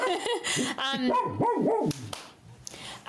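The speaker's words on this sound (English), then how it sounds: "Charlie, either bark or go away, please. Just don't grumble in the corner" A dog barks several times in quick succession, then lets out low grumbling whines, close by and loud, over the voices of people talking.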